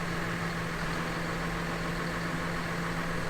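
A farm tractor runs with its PTO engaged, a steady, even engine drone with a low hum holding constant and no change in pace.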